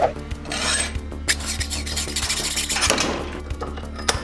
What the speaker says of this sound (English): And I'm going to use a hacksaw.